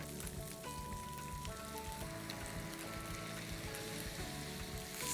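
Egg sautéing with spices and green masala in a pan gives a steady, close sizzle and crackle that runs throughout, with a tonal hum beneath it and no talk.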